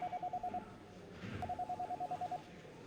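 A phone rings in bursts of rapid, evenly pulsed electronic trills, two runs split by a short pause, in a hot, busy office in the video game Eve New Generation, with muffled room bustle underneath.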